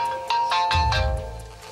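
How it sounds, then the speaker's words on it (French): A phone ringtone chimes in a short repeating melodic pattern, clear and fairly close, with a low rumble underneath. "le téléphone sonne enfin."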